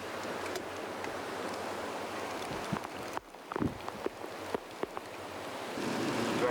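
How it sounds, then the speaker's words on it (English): Very heavy rain falls near Milford Sound among waterfalls as a close, steady broadband hiss. It briefly drops away midway with a few knocks, then returns louder. "It's still raining, obviously very, very hard."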